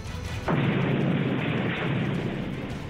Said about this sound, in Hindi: थोड़ी देर बाद ही वहां पर जोरदार धमाका हुआ